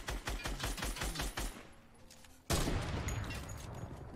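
A rapid run of video game gunfire bursts, then a brief lull before one loud, sharp sniper rifle shot cracks out and rings into a dense, noisy tail.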